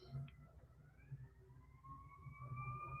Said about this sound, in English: I don't know if you can hear the fire truck or whatever outside.